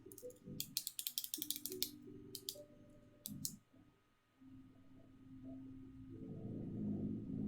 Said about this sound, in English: I'll shuffle the deck.